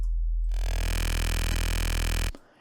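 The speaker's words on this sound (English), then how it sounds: "And then I will FM the sine wave from the crazy complicated wavetable." A heavy deathstep-style bass synth where a sine wave is frequency-modulated by a complex wavetable, producing one loud, dense, buzzing sustained tone rich in harmonics that holds steady for about two seconds before cutting off abruptly.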